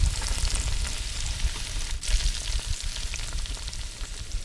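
Batter poured and spread into hot oil seasoned with asafoetida, cumin, mustard seeds, curry leaves and sesame, giving a loud, steady close-up sizzle with crackling pops throughout.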